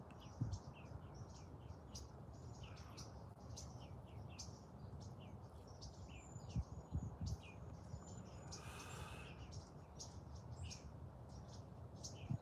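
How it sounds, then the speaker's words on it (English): Small birds chirp outdoors in short, scattered tweets over a faint, steady background hiss, some calls close and sharp, others distant, with no one speaking. "Bird"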